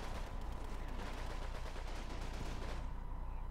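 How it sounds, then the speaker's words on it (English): Distant battle sounds from the war game Combat Mission: Fortress Italy: a dense, continuous crackle of canister fire and artillery, rumbling and rattling evenly before thinning out near the end. "Man, that canister fire is just lovely."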